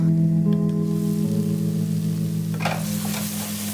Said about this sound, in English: I'm going to keep frying till the oil separate